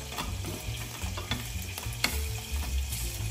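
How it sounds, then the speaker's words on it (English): Five cloves of garlic sauteing in a home kitchen pan give a steady, close sizzle with frequent scraping stir strokes throughout, and no voices. "Let's saute the garlic. Let's wait until brown."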